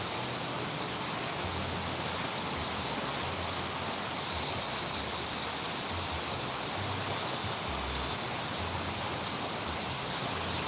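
Water of the Klawing River flows under the Linggamas bridge in Purbalingga, Central Java, a steady, full rushing wash that holds even and unbroken throughout.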